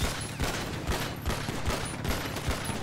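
Rapid gunshots in a GTA 5 roleplay game, a sustained volley of close, punchy shots at a quick irregular rhythm with no pauses.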